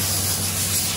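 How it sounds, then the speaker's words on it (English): Sanding of a fiberglass boat hull being restored, where osmosis blisters and deteriorated gel coat were ground out: a steady, loud abrasive rubbing hiss that runs unbroken close by, with a low hum beneath. "Well, big day of sanding."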